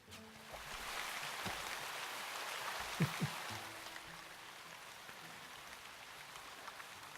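Steady rain hisses in the fantasy video game Shroud of the Avatar, a soft, even patter that thins out partway through, with a couple of faint thumps near the middle.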